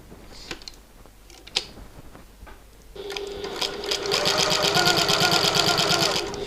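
A sewing machine stitches fabric for a button lock bag, starting after a few seconds of quiet handling and running as a loud, steady mechanical whir with a fast, regular stitching rhythm up close.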